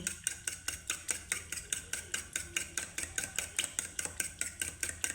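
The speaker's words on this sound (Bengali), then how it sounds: "আমি এখন দইটাকে এইভাবে ফেটিয়ে নেব" Spoon whisking yogurt with ghee in a bowl, a steady fast rhythm of clicking, scraping strokes, close and fairly quiet, with no talking.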